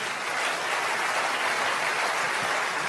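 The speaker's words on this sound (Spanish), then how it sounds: "Tienen que aplaudir más que eso si lo crees." Steady, dense applause from a church audience fills the space, an even wash of many hands clapping at a constant moderate level with no talk over it.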